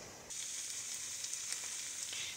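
Kale sizzles softly in a covered pan as it sautés, a steady frying hiss that rises after a brief quiet start and holds, fairly faint and close, with no talk.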